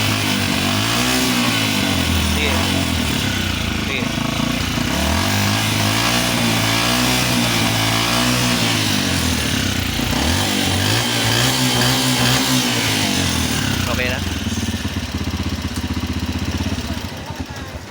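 A TMX 155 motorcycle engine revs repeatedly, rising and falling in loud surging waves close by, settling into a steady idle near the end.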